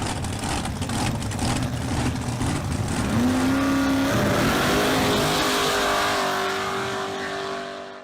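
A 1995 Ford F350 XLT with a 460 big block engine runs nearby, a loud, steady rumble that rises in pitch partway through, then fades gently at the end.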